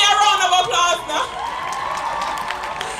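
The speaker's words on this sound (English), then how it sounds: "So give me a round of applause now." An audience at a school valedictory service claps and cheers in a hall, loud at first and then settling into lighter applause and crowd murmur.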